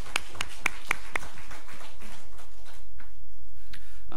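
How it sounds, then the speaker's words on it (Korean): Congregation at a church service clapping in praise: a handful of sharp, evenly spaced claps ring out close and clear, then thin into a softer, scattered patter that fades away. "우리 하나님께 영광의 박수 올려드리겠습니다"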